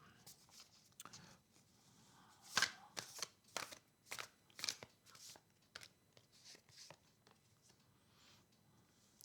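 Sufi Tarot cards shuffled by hand up close, a run of crisp, uneven papery flicks and riffles that come in short bursts with brief pauses between them.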